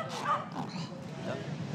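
A scent dog on a nighttime rat hunt in New York gives a few close yips and short whimpering barks, with people talking nearby.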